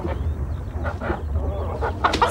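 A hen clucks and squawks softly at close range while a dog is nearby, giving a few short, uneven calls over a low background rumble with no talking.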